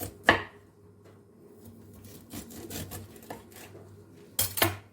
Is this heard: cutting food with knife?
yes